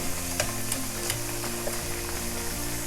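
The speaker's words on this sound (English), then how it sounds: "Fry that up." Food for Greek moussaka frying in a pan, a steady close sizzle with faint crackles and a low hum running underneath throughout.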